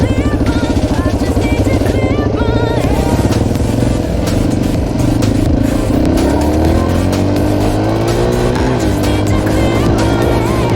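A new dirt bike's engine revs hard and loud, its pitch climbing and dropping in quick bursts of throttle with a raspy, continuous drone close to the listener.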